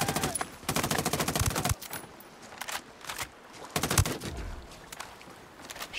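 Automatic weapons firing in the video game Ghost Recon Wildlands: rapid, loud bursts of machine-gun fire, two long volleys with shorter shots between them, over a constant rumble of game noise.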